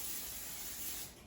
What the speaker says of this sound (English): let's spray the air fryer basket with a non-stick cooking spray